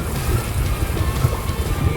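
Sailboat moving through waves at sea on a sunny day, a loud steady rush of water and wind buffeting the microphone, with deep sloshing and low background voices.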